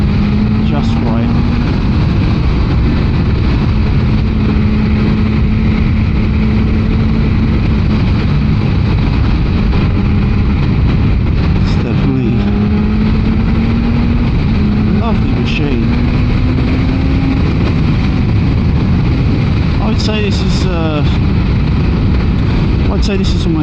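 BMW M1000XR motorcycle on a test ride, its engine droning loudly and continuously under heavy wind rush, with rising and falling pitch as the rider accelerates.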